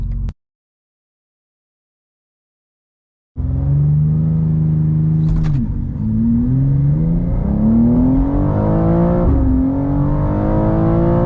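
A BMW G87 M2 running an M2CS tune starts up after a brief silence and settles into a loud, close exhaust rumble. It rises and dips through a few throttle blips, heard alone without talk.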